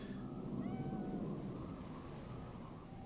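A cat in Cyberpunk 2077 gives a drawn-out meow with a slight pitch wobble, heard alone over a dense steady game ambience.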